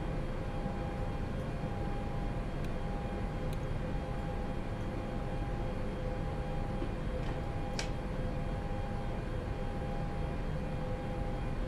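Airbus A320 jet engines idle before takeoff in X-Plane, a steady broadband roar with a faint high whine, constant and unchanging, with a few soft clicks.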